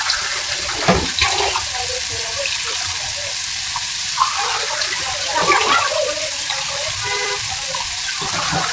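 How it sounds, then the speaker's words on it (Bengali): Broth is poured into a Bengali sour fish curry of pangas fish, potato and chalta. A steady, close splashing and gurgling of liquid runs throughout. "এই পর্যায়ে ঝোল দিয়ে দিলাম।"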